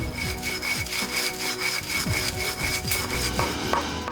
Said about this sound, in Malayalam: ഈ പശിമയുള്ള മണ്ണും ചാണകപ്പൊടിയും അമ്മിക്കല്ലിൽ അരച്ച് പരുവപ്പെടുത്തി എടുക്കുന്നു